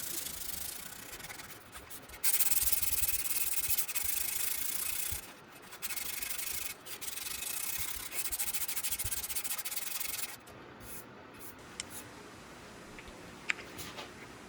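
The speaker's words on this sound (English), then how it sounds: "I'm just using some rolled up 120 grit sandpaper to get some of that grain filler out of the bridge holes" Rolled 120-grit sandpaper rubs grain filler out of the bridge holes of a Firebird kit guitar body, making close, steady scratchy strokes in several bursts separated by short pauses.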